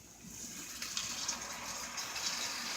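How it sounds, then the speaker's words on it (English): Water poured from a measuring cup into a pot of potatoes in a home kitchen, a steady, continuous splashing gush that runs close and unbroken for the whole span with no talk. "pour, I would say, about 3/4 of a cup of water down in there"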